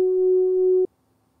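A single sustained triangle-wave synth tone through a low-cutoff low-pass filter, soft and mellow, holds steadily for under a second and then cuts off abruptly into near silence.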